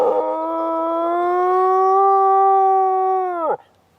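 A pet dog gives one long, sustained howl, loud and close, holding steady for about three seconds before sliding down into a brief whimpering drop at the end, with no voices over it.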